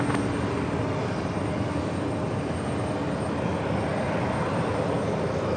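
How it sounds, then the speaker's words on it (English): JetBlue Airbus A220-300 jet airliner taking off at New York JFK airport, a steady, broad engine roar that stays loud and constant throughout, with no voices. "Next takeoff is JetBlue flight 419 heading to Atlanta, Georgia, Airbus A220-300."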